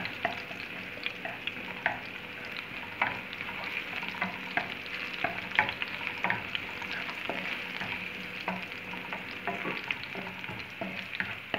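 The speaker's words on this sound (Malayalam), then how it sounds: "ഇഞ്ചി എല്ലാം ഇടുക. എന്നിട്ട് നന്നായിട്ട് ഇളക്കുക." Ginger frying in hot oil in a pan, a steady close crackling sizzle with frequent stirring scrapes and clicks throughout, no voices.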